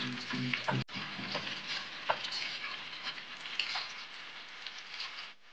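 Dried chilies, chopped ginger and garlic stir-fried together, sizzling steadily up close with scraping stirs of a spatula and a few sharp clicks against the pan.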